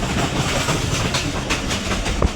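The 13 Up Awam Express runs through Noor Junction station without stopping, a loud, continuous close-range roar with rattling wheels and clickety-clack over the rails, and no one talks.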